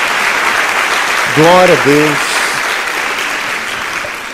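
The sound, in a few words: congregation applause in church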